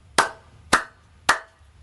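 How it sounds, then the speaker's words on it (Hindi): Three sharp hand claps, evenly spaced about half a second apart, close and loud with quick decay, no voices. "ताली बजाना तो पहले ही सीखना पड़ता है"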